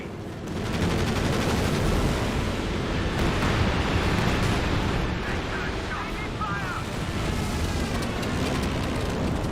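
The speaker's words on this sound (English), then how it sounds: "Something being called here, saw some sort of artillery barrage." Artillery barrage in the World War II strategy game Company of Heroes 2: continuous rumbling explosions and crackling gunfire, dense and unbroken for several seconds, with a commentator talking over it.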